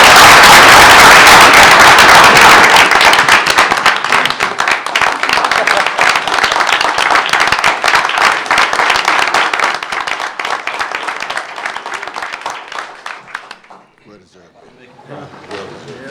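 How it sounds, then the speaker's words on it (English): A board meeting room bursts into loud applause for a departing member, dense clapping at first that thins into scattered claps and fades out near the end. "we also like to ask for a round of applause for Mr. Davis"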